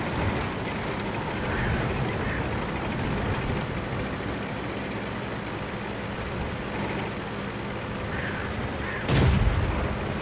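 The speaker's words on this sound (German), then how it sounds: "Artillerie ist das." In World of Tanks, a low rumbling battle din continues without a break, with distant heavy booms and a sharper artillery-like blast near the end. There is no clear speech.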